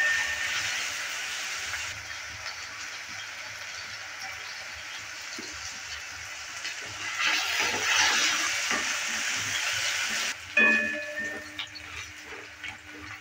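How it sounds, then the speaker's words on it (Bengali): Potatoes lightly frying in a pan give a soft, steady sizzle, swelling briefly before a sudden louder burst of stirring near the end, with faint talk underneath. "আলুটাকে একটু হালকা ভেজে নেব"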